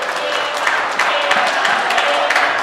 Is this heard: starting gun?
no